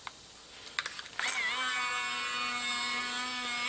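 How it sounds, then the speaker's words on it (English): A small battery-operated Dremel rotary tool smoothing the rough cut edge of a metal brake line pipe, starting after a few light clicks and handling sounds, then a steady, close, high-pitched whine running on continuously. "with my little battery-operated Dremel, just go in the top, go around it"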